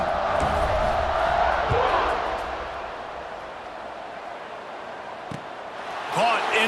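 A stadium crowd roars at kickoff in the College Football 26 video game, Florida Gators versus Dr Eggman. The loud, steady wall of cheering eases partway through, then swells again near the end.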